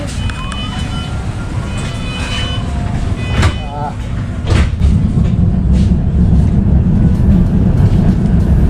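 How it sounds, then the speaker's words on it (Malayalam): Riding inside a tram in Germany: a low, steady rumble of the moving carriage builds and grows louder, with brief squeals, beeps and a chime, while people talk nearby. "ഞാൻ ഈ ട്രാമിൽ ആദ്യമായിട്ടാണ് കയറുന്നത് കേട്ടോ"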